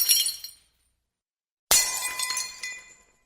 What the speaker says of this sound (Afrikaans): Ewe skielik is Floris met klein stukkies gebreekte glas omsingel